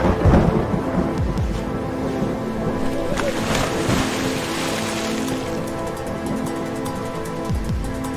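Heavy rumbling storm noise with deep thunder-like booms and steady rain or wind wash, loud and continuous throughout.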